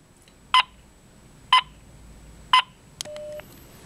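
BlackBerry smartphone test call: three evenly spaced dialing tone beeps, about a second apart, clear and close, followed by a short electronic tone, with no talking.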